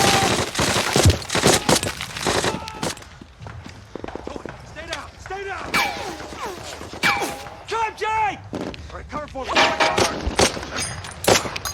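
Scattered rifle and machine-gun fire in a D-Day war film battle scene, Germans firing at each other, with bursts and single shots at varying distances mixed with running footsteps, shouting voices and talk throughout.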